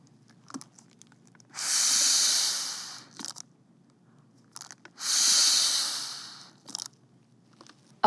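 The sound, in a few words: rescue breaths given during CPR demonstration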